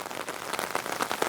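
Steady rain patters densely on surfaces nearby, a continuous hiss with scattered distinct drops, heavy enough to flood the area.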